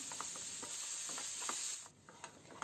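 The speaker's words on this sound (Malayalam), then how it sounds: "ഒരു വലിയ ഉള്ളി കട്ട് ചെയ്തത് ഇട്ട് കൊടുത്ത് ഒന്ന് വഴറ്റിയെടുക്കണം" Chopped onion sautéing with salt in a pan, a steady close hiss of frying with a few soft stirring taps, then the sizzle fades and the tapping grows clearer.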